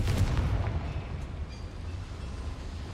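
Confringo blasting spell cast in a Harry Potter video game, a loud low rumbling explosion that booms at the start and rolls on as a dense, steady roar for several seconds, with no talk.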